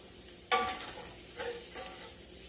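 Butter starts melting in a pan beside sausage, setting off a sudden sizzle that settles into a quiet, steady crackle with a couple of soft scrapes, heard close up and without any voices.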